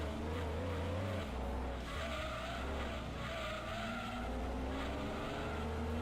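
Car tires squealing and skidding in the racing video game Gran Turismo 2, a sustained wavering screech over a steady engine drone, loud and continuous.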